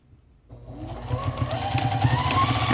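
A sewing machine starts up and runs steadily, stitching puppet fabric with a rapid mechanical whir that builds in a couple of seconds and holds, close by with no talking.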